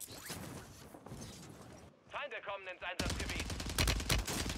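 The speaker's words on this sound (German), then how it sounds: "Ich lande jetzt einfach und schieße den aus der Luft" Video-game gunfire from Call of Duty: Warzone, with bursts of rapid shots and mechanical clatter, fairly loud, mixed with a player talking over it.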